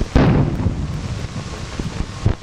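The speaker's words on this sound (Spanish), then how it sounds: "las salvas, los 21 cañonazos que indica el ceremonial, están siendo disparados aquí en la plataforma militar" Ceremonial 21-gun cannon salute fired from a military platform during a 1973 presidential farewell, heard as a heavy blast at the start and another near the end, with rumbling, wind-buffeted noise between.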